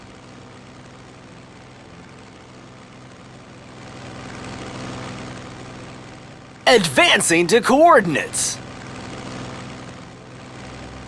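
Tactical bomber aircraft engines from the Strategic Mind Blitzkrieg strategy game, Battle of Sealion offshore south England: a steady low engine drone throughout, swelling slightly midway, with a voice speaking briefly over it.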